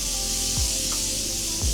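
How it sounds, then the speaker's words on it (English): A Morphe setting spray mists onto a face, giving a soft, continuous airy hiss that stays fairly quiet over a low background hum. "I'm going to set my face using my Morphe setting spray."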